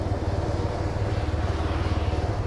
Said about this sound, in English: Oh, there goes the jet, friendly jet.